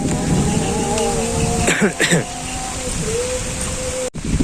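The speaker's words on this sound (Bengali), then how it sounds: "বৃষ্টি কমছিল তাই আবার হঠাৎ করে জোরে নামছে" Heavy rain pours down again in a village setting, a dense steady hiss with a brief voice-like sound heard over it.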